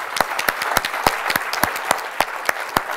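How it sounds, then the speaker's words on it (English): Sparse, scattered clapping from a few people, individual sharp claps at an uneven rhythm, fairly close. "we should give Tales a round of applause for actually doing this"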